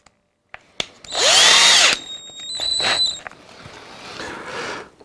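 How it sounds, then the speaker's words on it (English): A handheld power drill with a small bit boring pilot holes for tapping 4-40 screw threads: a couple of clicks, then a close whining burst that rises and drops in pitch, followed by softer intermittent drilling runs. "I'm going to drill these small holes with the small drill bit to fit my tap"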